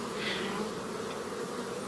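Honey bees buzz in a dense, continuous drone around a hive box holding a frame of drawn comb, with lemongrass oil dropped at the entrance; the swarm sounds close and steady with no voices.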